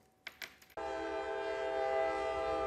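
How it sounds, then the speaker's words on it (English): A loud, sustained train horn blares close by in downtown Columbia, one long steady blast holding through most of the clip after a few short broken bursts at the start. "the loud horn that you hear from trains that travel through downtown Columbia"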